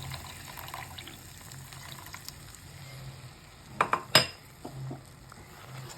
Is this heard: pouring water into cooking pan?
yes